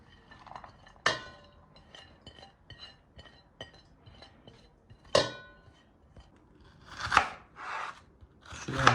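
Turkey meat is chopped finely on a board, heard as a run of close, sharp knife strikes at an uneven rhythm with several louder chops standing out.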